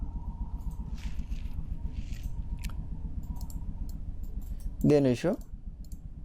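A computer mouse clicks a few times, faint and sharp, while working in Google Sheets, mostly beneath steady narration.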